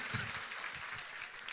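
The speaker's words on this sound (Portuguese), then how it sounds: "Pode aplaudir aí, ó." Audience applause at a church conference workshop, a steady wash of many hands clapping at moderate level with faint voices mixed in underneath.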